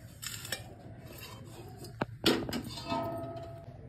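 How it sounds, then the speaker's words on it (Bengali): A metal utensil scrapes roasted cumin and fennel seeds up from a pan, making close, rasping scrapes with a few sharper clicks, loudest in the middle. "এবার মশলাটা কুড়িয়ে নেব।"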